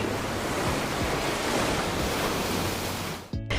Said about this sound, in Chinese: 配上拍打着海面的浪花